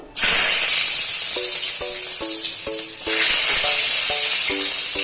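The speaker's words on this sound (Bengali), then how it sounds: "রসুন আর লঙ্কা কুচিটা যখন দেব মানে ছিটকাবে তো বটেই" Chopped garlic and chili hit hot oil with a loud, steady sizzle and spatter that holds throughout, with a brief dip midway, while a soft tonal pattern repeats faintly underneath.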